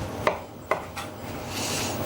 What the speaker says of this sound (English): So give it a little chop yourself, just to get it into smaller dice